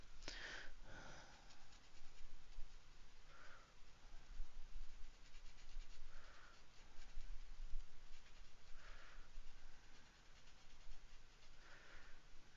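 A chrome orange alcohol marker's bullet nib rubs and scratches softly across paper, producing faint, steady strokes with several slightly louder swipes spaced a few seconds apart.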